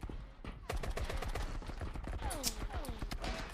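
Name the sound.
gunshots in a shooter video game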